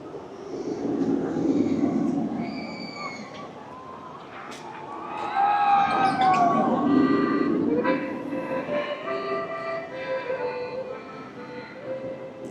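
The VelociCoaster roller coaster train at Universal's Islands of Adventure runs along its track with a rising, swelling rumble and metallic squeal that peaks mid-clip and then fades, heard from nearby within a theme park crowd.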